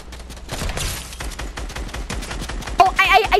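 Rapid bursts of gunfire ring out during a Fortnite match, a dense run of shots layered over game sounds and faint talk, with a sharper flurry near the end.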